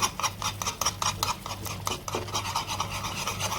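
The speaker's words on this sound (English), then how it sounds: "We will add little by little and vigorously keep on whisking our fondue." Fondue is whisked vigorously in a pan, a rapid, rhythmic metallic scraping that runs continuously, close and fairly loud.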